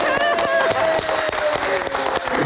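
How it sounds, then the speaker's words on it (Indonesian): Studio audience at an Indonesian late-night live show applauds for a band's bassist, a steady loud wash of clapping throughout, with a host talking over it. "Kita kasih tepuk tangan sekali lagi."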